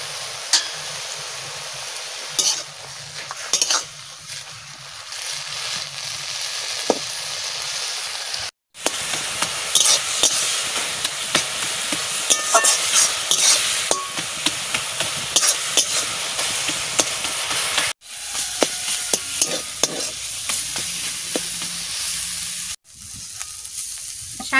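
Leafy greens (shak) with turmeric stir-fried in a pan give a steady close sizzle with scraping stirs throughout, broken by a few brief pauses; nobody speaks.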